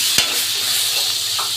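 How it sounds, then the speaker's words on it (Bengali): Minced chicken hitting hot oil and cooked-down spices in a pan, a sharp stirring scrape at the start, then a steady bright sizzle and frying hiss close up. "এখন দিয়ে দিব চিকেনের কিমা।"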